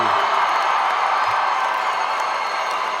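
A high school graduation audience cheering and applauding, a dense, loud wash of clapping and crowd noise that holds steady throughout.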